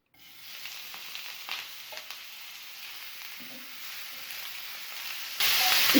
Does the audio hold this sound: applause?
no